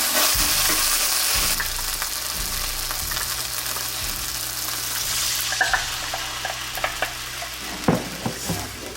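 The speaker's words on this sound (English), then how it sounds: "My broccoli has been sauteing for a couple minutes." Broccoli sautes in a skillet with Alfredo sauce and a cup of water, a loud steady sizzle and bubbling close by, with occasional clinks and scrapes of a utensil stirring toward the end.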